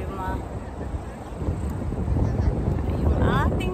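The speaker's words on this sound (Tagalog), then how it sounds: "Wow, mahangin na guys." Steady wind rushes and buffets across the microphone outdoors at Ma Wan, Hong Kong, with a voice speaking intermittently.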